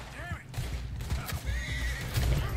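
A horse in the video game Red Dead Redemption 2 whinnies several times amid hoof clip-clops and a busy mix of game noise, with a voice talking over it.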